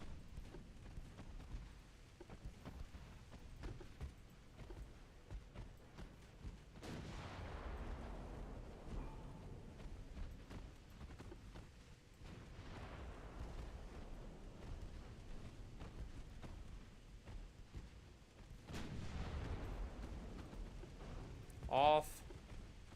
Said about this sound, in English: Stop shooting your main guns for now, boys.